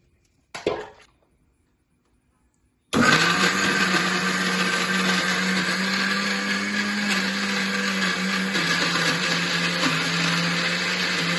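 One brief knock is followed by a short silence, then a kitchen mixer grinder starts grinding fried spices into powder with a loud, steady, high-pitched whir that runs continuously to the end.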